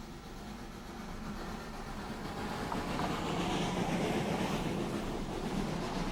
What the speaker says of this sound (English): The mine's North British tank locomotives are also seen in action at the time.